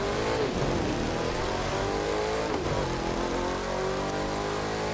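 Ford Mustang engine in The Crew 2 racing game revving and accelerating hard, with a steady loud roar and rising gear sweeps throughout, no talk over it.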